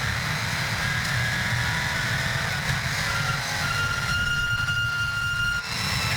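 A V8 touring car racing at Manfeild raceway in New Zealand drones steadily with a rough, truck-like engine note, a continuous mid-distance roar with no pauses.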